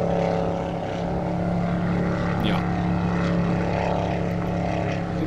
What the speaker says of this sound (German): Mit so einem lauten Flugzeugmotorboot.